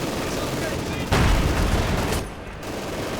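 Rapid automatic gunfire from an MG42-style support weapon in the strategy game Company of Heroes 2, a dense continuous rattle swelling louder midway then easing, with battlefield noise and a commentator's voice over it.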